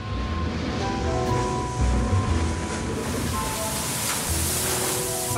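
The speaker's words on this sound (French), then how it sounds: "Down here in the roaring 40s, the mother of all oceans flirts with the tempestuous wind." Ocean waves and strong wind in the roaring forties of the Southern Ocean, a constant loud roaring wash with surges of spray and gusts, no voices.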